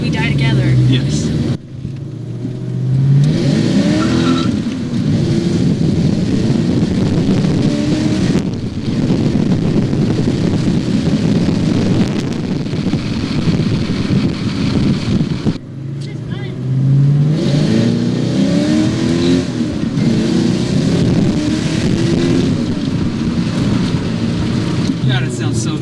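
Car engine revving hard while driving a lap in a vehicle with poor steering, the roar sustained and surging under heavy wind buffeting, with occasional shifts in pitch and people talking over it.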